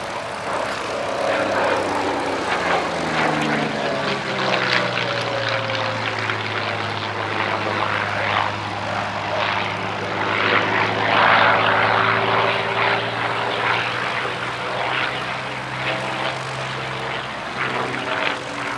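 A modern reproduction Yak 3 WWII fighter with its piston engine and propeller droning steadily at an air show at East Kirkby, a loud sustained roar that swells and shifts in pitch as the plane passes.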